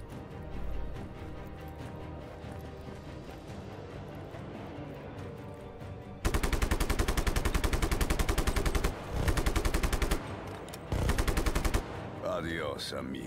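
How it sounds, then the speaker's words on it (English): Loud sustained machine-gun bursts in the Just Cause 3 video game, rapid rhythmic fire in three long volleys with short breaks, following quieter in-game ambience. "let's go and destroy this bastard with his machine gun"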